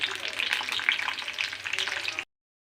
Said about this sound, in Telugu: ఫస్ట్ ఆయిల్ వేసుకుని కళాయిలోని వెల్లుల్లిపాయలు వేసి వేయించాలి ఫస్ట్ నూనెలోనే.